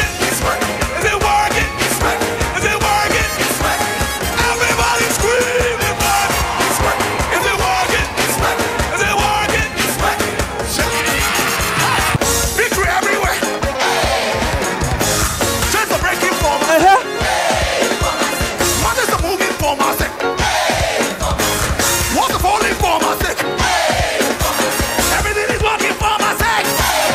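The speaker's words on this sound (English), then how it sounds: "Everybody scream, everybody!" A wedding crowd screams and yells continuously and loudly for nearly half a minute, a dense roar of many voices with no quiet gaps.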